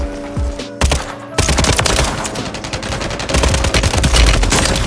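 Dense gunfire from a Warzone gunfight, with rapid automatic bursts and shots layered into a loud, continuous barrage after a brief pause, close and intense throughout.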